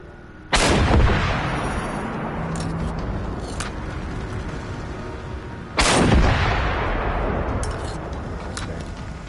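Two heavy explosive blasts from a rocket launcher in a Cold War-era combat video game, each a sharp loud boom followed by a long rumbling decay, spaced about five seconds apart.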